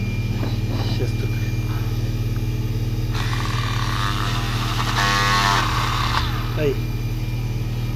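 A four-pole electric motor running at 6000 rpm gives a loud, continuous, steady humming drone with strong tonal whine, heard close, with a brief shout over it.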